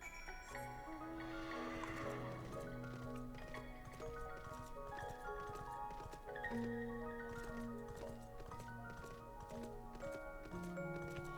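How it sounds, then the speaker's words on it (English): Rhythmic hoofbeats clip-clop steadily over melodic Final Fantasy XIV music with sustained tones, a clean synthetic mount sound repeating throughout. "Horse."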